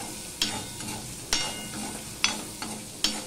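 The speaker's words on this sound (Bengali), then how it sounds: "আলুটা প্রায় অর্ধেকটা মতো ভাজা হয়ে গেছে।" Potatoes frying in a pan of oil, a continuous sizzle broken by several sharp spatula scrapes and stirs at irregular intervals, close up with no talk.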